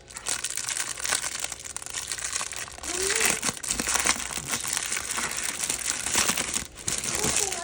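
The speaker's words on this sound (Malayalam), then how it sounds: "ഈ പുറത്തുള്ള പ്ലാസ്റ്റിക് കവർ നമ്മൾ പൊട്ടിച്ചെടുക്കണം കേട്ടോ." The outer plastic wrapper of a food packet is torn open and handled up close, a loud continuous crinkling and crackling with sharper tearing bursts throughout.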